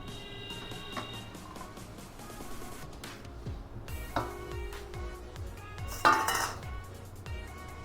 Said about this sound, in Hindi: चलिए अब इस बेसन को हम धीरे धीरे इसमें घी में मिक्स करेंगे।